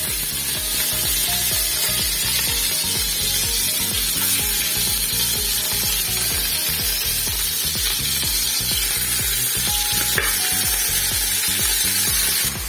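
Chicken pieces fry in a saucepan with a couple of spoonfuls of oil, giving a loud, continuous crackling sizzle that holds steady from start to finish.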